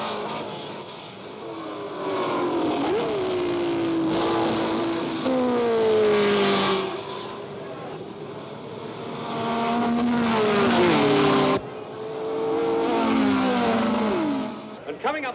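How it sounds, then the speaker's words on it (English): A 1966 Ferrari Grand Prix race car roars loudly down the main straight, its engine note climbing and dropping through gear changes in sustained waves, with a second car's pitch sweeping past. "Coming up the main straight now is number 4, Jean-Pierre Sarti's Ferrari in 14th place"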